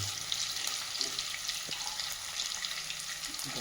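Chicken goes into a pan of onions fried golden-brown, setting off a steady, even sizzle and crackle of hot oil, heard close and without any talk.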